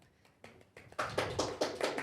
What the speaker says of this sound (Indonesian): Boleh minta tepuk tangannya untuk Mbak Vina.